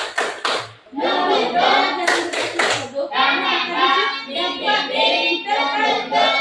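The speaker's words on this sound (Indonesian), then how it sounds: "Tepuk semangat" A school classroom joins in a rhythmic spirit clap, sharp bursts of hand claps in a quick pattern near the start and middle, with children's voices chanting and talking loudly throughout.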